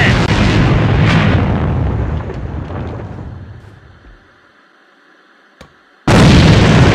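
A loud grenade blast in the online shooter AVA booms out and rumbles away over several seconds, then a second sharp, heavy explosion erupts abruptly near the end.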